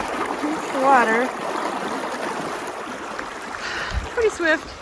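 Swift river water rushes steadily along a sandy trail in the wilderness, a constant near roar of flow under a speaking voice, with brief splashes and footsteps in between.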